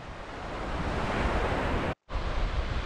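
Small ocean waves wash onto the south shore of Cape Lookout island, a loud, steady broadband surf hiss with wind, broken by a brief dropout near the end.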